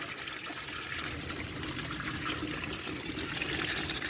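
Water rushes and splashes steadily out of a Chevrolet S10 radiator during a back flush, a continuous hissing flow with no voices.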